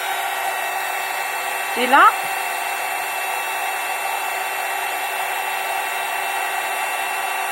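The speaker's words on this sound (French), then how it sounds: "Bon, le pistolet à chaud," A heat embossing gun blows a steady, close whirring hiss that runs without break, with a brief voice speaking over it once.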